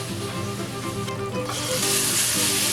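Walnuts are stir-fried briefly in an oiled pan with nearly cooked ingredients, giving a continuous sizzle that swells louder and brighter partway through over a faint steady hum, with nobody talking.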